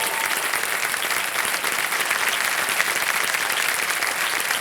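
A game-show studio audience applauds steadily, dense clapping from many hands holding at an even level for several seconds without pause.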